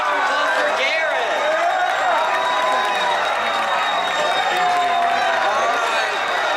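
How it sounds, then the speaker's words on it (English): Crowd applause and cheering at a university evening show fill the space in a continuous dense wash, with voices and shouting mixed into the clapping throughout. "Let's give a round of applause for Garrett"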